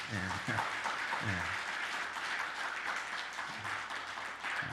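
A church congregation applauds in a steady, sustained wash of clapping that fills the room, with a voice speaking faintly beneath it at the start.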